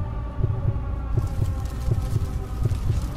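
A steady, throbbing heartbeat sound effect from a Godzilla vs Destoroyah animation, a regular double-thump pulse repeating about every half second over a low, continuous hum.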